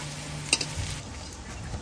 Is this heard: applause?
no